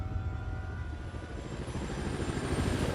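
A helicopter in a movie trailer gives a steady, loud rotor and engine roar with a low, fluttering thrum throughout and no talk.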